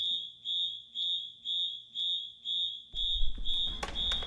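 A fire alarm beeps in a steady rhythm of about eight shrill pulses, close and loud, with a burst of rumbling noise in the last second.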